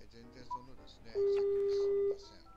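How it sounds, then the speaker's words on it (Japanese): A phone call to book a coronavirus vaccine begins with a short dial beep, then a steady telephone tone lasting about a second, heard close under faint background talk. "電話もしてみます"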